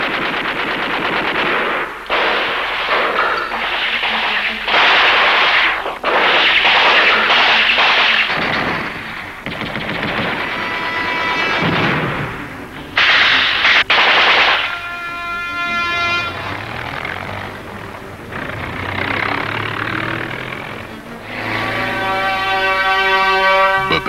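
Heavy gunfire rages in a battle: rapid bursts of machine-gun fire mixed with loud, booming howitzer artillery shots, plus horn-like tones near the end.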